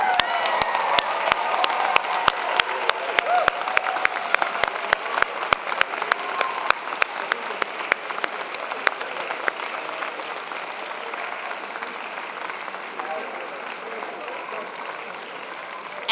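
A convocation audience applauds its graduates in a dense, continuous ovation with sharp individual claps standing out early, then gradually thinning and softening over about sixteen seconds.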